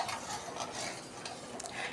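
Sugar syrup being stirred in a pan, with a steady soft scraping and swishing of a utensil against the metal and occasional light clinks, close and continuous with no voices.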